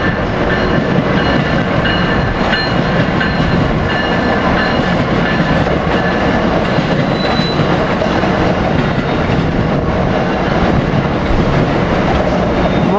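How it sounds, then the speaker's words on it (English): Amtrak ACS-64 electric locomotive number 605 pulls its train into 30th Street station, a continuous loud rumble of rolling wheels and rail noise close by without pause, no one talking. "ACS 64 engine 605 coming in. We're leading this train."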